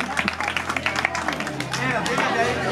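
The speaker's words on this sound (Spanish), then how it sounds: "Con el aplauso de todos ustedes" Enthusiastic clapping from an audience at a boxing club's opening ceremony, dense and steady, with a crowd murmur mixed in.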